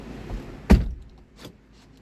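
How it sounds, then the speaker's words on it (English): A single solid thunk of a car door shutting, near and sharp, followed by a faint softer knock and quiet. "Let me close the door."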